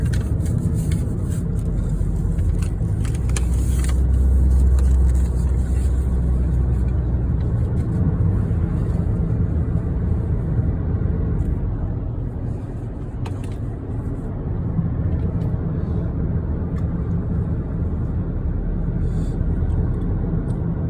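A car drives along a road through the mountains of Olympic National Park, a steady low engine and tyre rumble heard from inside the cabin, continuous with no speech.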